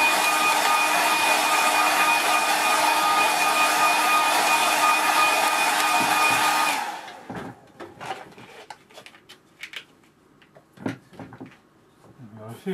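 A hair dryer blows on a watercolour painting, giving a loud, steady roar that runs for about seven seconds and then cuts off, leaving quiet brush and handling sounds.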